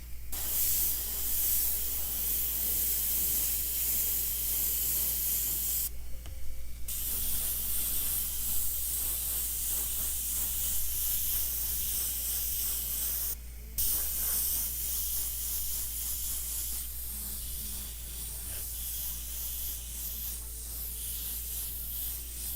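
Candy 2.0 Carbide Blue paint sprayed straight from the bottle in light coats, a steady close airy hiss running almost unbroken with two brief pauses, over a low constant hum.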